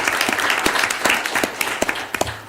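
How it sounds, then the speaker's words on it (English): Applause from the audience at a city board of directors meeting honoring long-serving employees, a dense patter of many hands clapping steadily with a few sharper claps standing out, moderately loud and close. "Y'all give them a round of applause."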